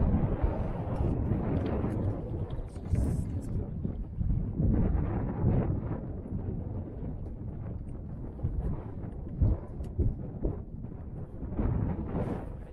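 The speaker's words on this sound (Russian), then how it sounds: "Ветер такой мешает, зараза." Gusty wind buffets the microphone by a lake in Karelia during spring fishing, a continuous low rumbling roar with fluctuating bursts across the whole stretch, loud and close, with no clear talk.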